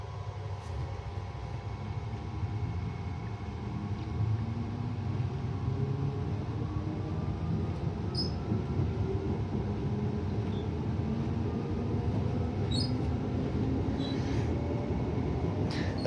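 Inside a Brisbane Cleveland Line train while it rides, a steady rumbling and humming run with faint squeals and a few light clicks, no voices.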